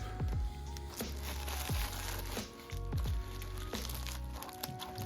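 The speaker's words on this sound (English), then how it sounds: "we'll get it out of the bubble wrap here" Bubble wrap crinkles and crackles in short bursts as an item is unwrapped up close, with soft rustling between the louder crunches.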